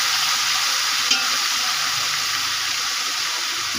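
Chicken frying in hot oil for biryani, a loud, steady, close sizzle that holds unbroken throughout with no voices.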